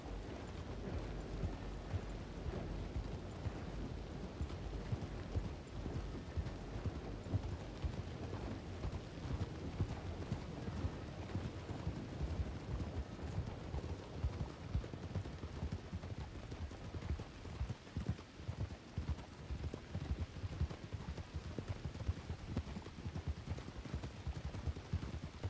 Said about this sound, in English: I don't know why my horse wanted to stop.